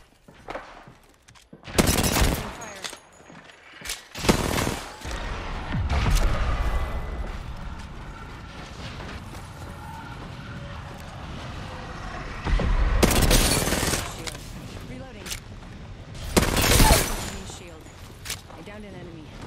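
Bursts of video game gunfire from a kunai weapon come in loud, separate volleys with sharp cracks and low booms, with quieter ambient action and voices between them.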